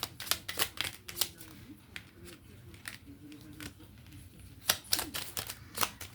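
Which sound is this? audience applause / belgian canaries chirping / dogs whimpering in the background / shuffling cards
shuffling cards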